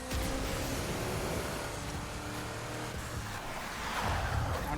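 A car is driven in the Need for Speed Heat video game, giving a steady engine roar with road and tire noise that swells slightly near the end, heard alone without voices.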